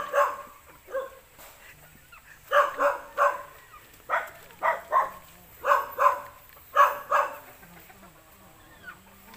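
A dog barks repeatedly near a house in the Philippines, giving sharp, close barks in quick pairs and clusters with brief pauses between them.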